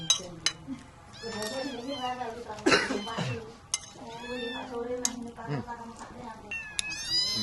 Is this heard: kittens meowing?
yes